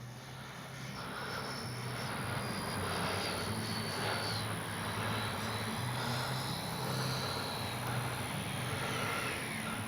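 A steady, loud jet whine with a broad engine roar holds throughout as an 80mm EDF F-86 model jet plane flies nearby without passing away.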